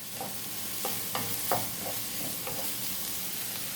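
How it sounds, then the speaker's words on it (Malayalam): Chopped onion, green chili, ginger and garlic sauté in a hot pan, a steady low sizzle broken by several sharp scrapes and stirring knocks of a spoon against the pan. "ഇനി നമുക്കിതൊന്ന് നന്നായി വഴറ്റിയെടുക്കാം."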